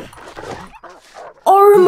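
A dog attacking in the survival video game The Long Dark, with sharp whimpering and yelping bursts near the end, loud and close, following a stretch of a person's speech.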